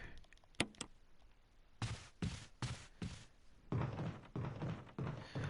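Door opening in the Resident Evil Remake video game: two sharp knocks, then a run of heavy, rhythmic thumps and clunks as the door animation plays, close and fairly loud with no voices.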